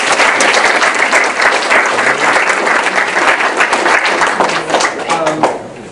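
An audience at a diversity program gathering applauds the librarian, loud, dense clapping from a crowd that stays full and steady before easing slightly at the end.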